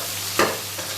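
Large-cut diced onions frying in a pan, a steady close sizzle with one quick scrape of stirring partway through, brief and unbroken by talk.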